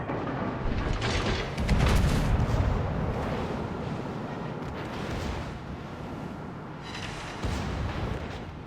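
Naval gunfire pounds a ship in the World of Warships game: heavy booming shell hits and artillery blasts roll over one another, with louder impacts near the start and again toward the end.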